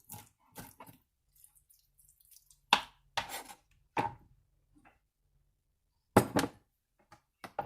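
A knife chops seafood and vegetables for a stuffed pepper filling on a board, with sharp irregular strikes in short bursts separated by quiet pauses, close and dry.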